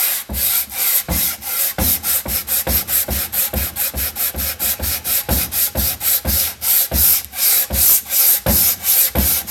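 Sanding the edges of a wooden book box by hand, with steady rhythmic back-and-forth rasping strokes, close and loud, about three per second throughout.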